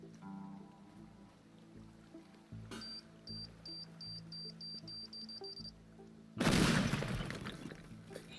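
An explosion in the destruction game Teardown comes in late as a sudden, loud crumbling blast with breaking debris, after quieter stretches of game sounds and beeping tones.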